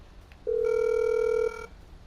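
Ringback tone on a phone call placed to the mechanic in GTA 5 Online: a single loud steady electronic ring lasting about a second, heard alone.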